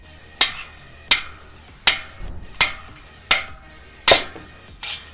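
Mini sledgehammer striking a punch to drive out a wheel bearing, seven sharp metallic blows in a steady rhythm about a second apart, close and loud with no talk.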